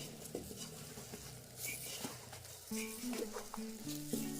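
Turmeric and other spices are mixed by hand into a ginger and raw mango pickle, giving faint, soft stirring and scraping sounds with occasional light clinks of a utensil against the dish.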